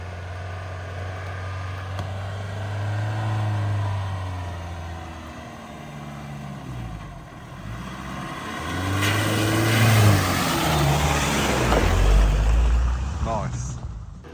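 Overland vehicle climbing a short steep hill on the way out of Morocco, its engine rising and falling in revs through two swelling passes, fairly loud and close, with voices speaking over it.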